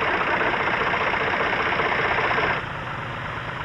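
A prototype tractor with an ungainly spraying rig runs in a cotton field, its engine a steady loud chugging drone that drops slightly in level near the end, with no voices.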